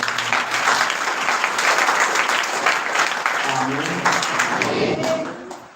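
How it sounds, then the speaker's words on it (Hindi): A congregation at a religious gathering bursts into loud, sustained applause lasting several seconds, with many hands clapping together before it tapers off at the end. "ताली बजाइए परमेश्वर।"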